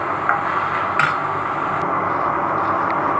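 Okra stir-fries in a pan with a continuous loud sizzle. A utensil clinks against the metal a few times over the hiss.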